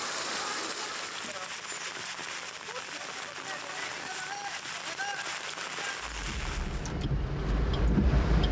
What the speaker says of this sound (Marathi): पालघरमध्ये पावसाचा जोर अजूनही कायम आहे।